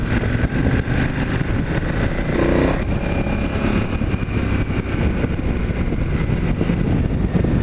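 KTM 990 Adventure motorcycle on the road, a steady loud engine drone with wind noise running throughout, close and continuous with no speech.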